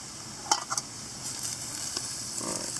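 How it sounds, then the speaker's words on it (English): Water coming to a boil in a pot over an alcohol camp stove while making ramen, a steady close hiss broken by a few sharp pops and crackles, with no talking. "sounds like my water's boiling, so I'm going to take this pot off"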